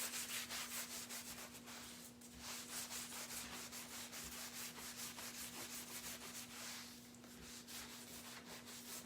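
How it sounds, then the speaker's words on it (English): A microfiber cloth rubs wax into a wooden pumpkin cutout in quick, even back-and-forth strokes, close and quiet, with a faint steady hum behind it. "Let me grab my buffing cloth. I just use an old microfiber cloth and I just buff it out."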